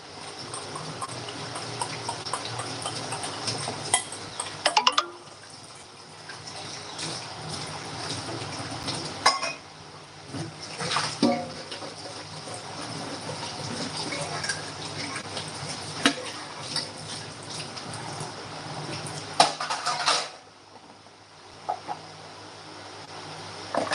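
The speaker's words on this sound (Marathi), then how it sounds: "जेवण झालं भांडी कुंडी आवरायचं काम चालू" Dishes, pots and pans being washed and cleared after a meal give running tap water with scattered clinks and knocks of utensils, moderately close and fairly quiet, without speech.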